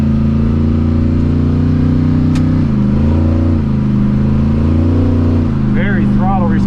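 A 1979 Ford F100 pickup with a 408 stroker engine and stall converter drones loudly up close, its pitch rising and falling as the throttle opens, with a voice talking over it near the end.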